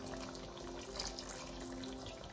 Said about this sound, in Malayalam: കാഷ്യൂനട്ടാണ്, അതിൻ്റെ പേസ്റ്റാണ് ഞാൻ ഒഴിക്കുന്നത്.